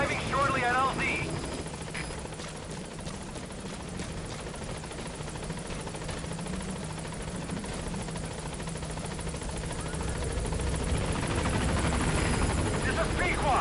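Pequod helicopter arriving in Metal Gear Solid V: The Phantom Pain, a loud, steady rotor thrum and engine whine that holds throughout under radio voice chatter.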